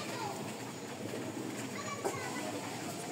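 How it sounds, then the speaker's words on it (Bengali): Racing pigeons, a proven breeding pair of club racing Huma birds, give soft, intermittent coos within a busy loft ambience, with children's voices and general chatter running throughout. "দামি কবুতর"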